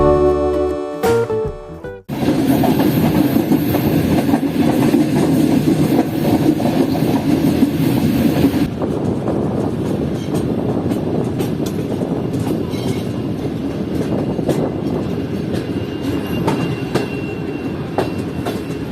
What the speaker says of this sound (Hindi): हमारी ट्रेन निकल रही है गंबट रेलवे स्टेशन से